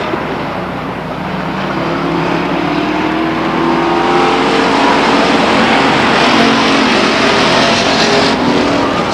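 Stock cars race around the Stockton 99 Speedway oval, their engines roaring loud and steady in a dense, continuous pack that builds slightly as the field comes off the turn.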